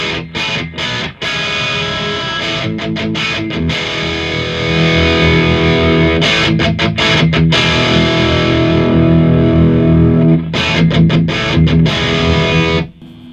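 Electric guitar driven through a Behringer GDI21 distortion pedal into a Marshall amp set clean with flat EQ, giving a loud, saturated sustained riff with chugging palm-muted stops and bursts, played alone without talking.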